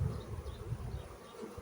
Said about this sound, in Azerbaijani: indi görürsünüzmü bu arı ailəsini